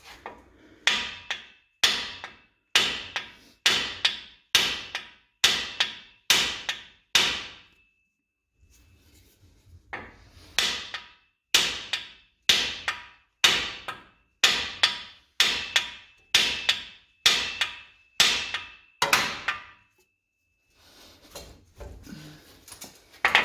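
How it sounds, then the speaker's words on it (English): A hammer strikes a Ford Raptor's upper ball joint in a fast, even series of sharp metallic clangs, a pause, then another run of blows, close and alone. "you'd hit your upper ball joint right there with a hammer"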